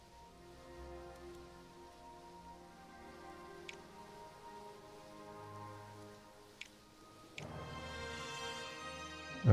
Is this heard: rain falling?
yes